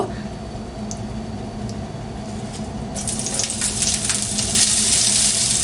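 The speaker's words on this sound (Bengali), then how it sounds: "আমি চলে এসেছি কিচেনে, আর প্যানটার মধ্যে আমি একটু সর্ষে তেল দিয়ে দিয়েছি। সর্বপ্রথম এই লাউয়ের খোসা ভাজাটা করব।" Bottle gourd peels frying in mustard oil in a pan, a steady close sizzle that swells louder and brighter halfway through, continuous with no talk.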